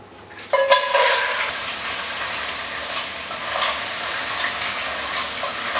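Mussels frying in a pan for a Basque-style dish, a sudden loud sizzle as they hit the hot pan, then a steady hissing fry with occasional stirring clatters, close up and without talk.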